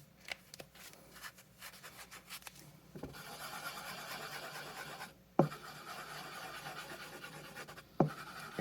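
A dry erase marker traced over old marker on an NES cartridge label, giving a soft, close scratchy rubbing in short strokes with brief pauses and a couple of sharp ticks.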